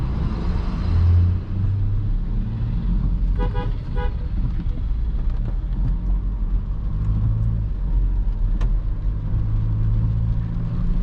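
A car rumbles steadily past nearby, with a couple of short horn toots partway through and continuous road noise throughout.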